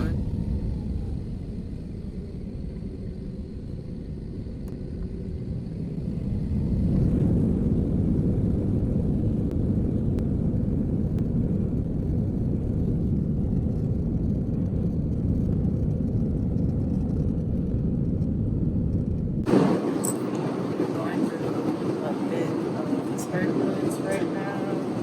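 Airplane cabin during takeoff, a steady low engine rumble that swells louder after several seconds and holds as a broad roar, then shifts in tone near the end.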